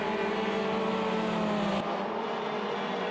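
Race cars, a Puma and a Chevette, running side by side downhill in a racing video game, a steady droning engine roar that drops in tone partway through as one car eases off.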